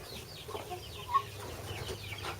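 An Amberlink hen on a small farm gives soft, quiet clucks and murmurs in a coop, with faint farmyard background.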